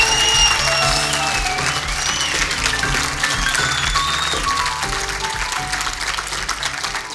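Audience applause at a live comedy show in Ostrava: steady, loud clapping sustained throughout, blended with music and no speaking voices.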